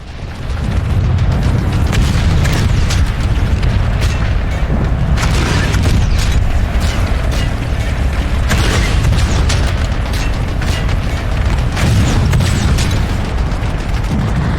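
Prowler tank in Planetside 2 firing a cannon barrage: a dense, continuous run of heavy booms and blasts, loud and close, the rumbling explosions overlapping with no pauses.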